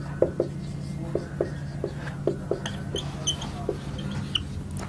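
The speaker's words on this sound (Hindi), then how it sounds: "अब हम लिखते हैं पुटिंग द वैल्यूज" A pen writes on paper while working through a Class 10 maths exercise, giving soft scratchy strokes in short repeated bursts over a steady low hum.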